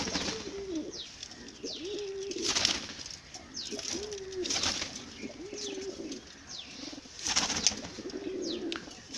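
Pigeons coo repeatedly at close range, soft rolling calls recurring every second or two, with occasional brief wing flaps and faint chirps in the background.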